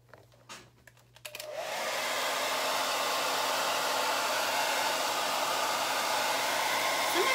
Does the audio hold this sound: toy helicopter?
no